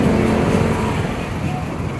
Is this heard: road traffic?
yes